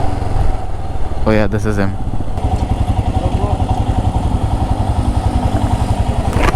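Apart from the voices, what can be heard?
Royal Enfield Himalayan BS6 motorcycle arriving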